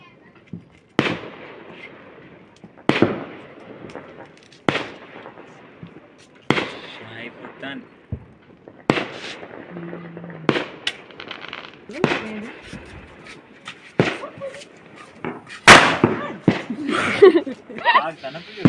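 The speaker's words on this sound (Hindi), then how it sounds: "चारों तरफ पटाखे फट रहे हैं" Sharp firecracker bangs burst one after another at irregular intervals during Diwali, some close and loud, with people talking and chuckling between the blasts.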